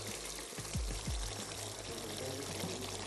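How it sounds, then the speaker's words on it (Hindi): Boiled potatoes tumble into a pan of masala for aloo ka khatta salan, giving a brief soft plop and wet slide followed by steady low cooking noise, with no talk. "साथ ही मैं इसमें शामिल कर देती हूँ ये बॉईल हुए हुए"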